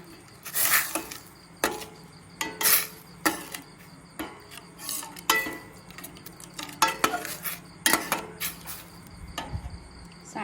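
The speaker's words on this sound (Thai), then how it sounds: "แล้วผัดพริกแกงกับกะทิจนข้าหอมนะคะ" Curry paste being stir-fried with coconut milk in a pan for a bamboo shoot, mushroom and pork belly curry, with repeated close scraping and clattering of a utensil against the pan in an uneven rhythm.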